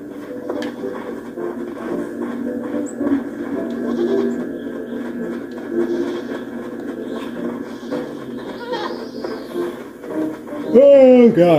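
A goat in the video game Blanc bleats in a series of wavering calls over a murmur of background sound, with a sharper, louder bleat near the end.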